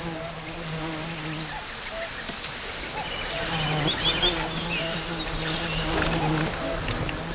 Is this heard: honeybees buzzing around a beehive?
yes